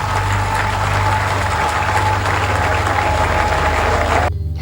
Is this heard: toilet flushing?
no